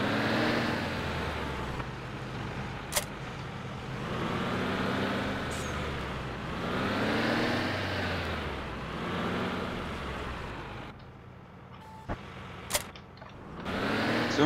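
Farming vehicle engine in Farming Simulator 17, droning steadily with slow swells in revs and a few sharp clicks, close and continuous with no talk.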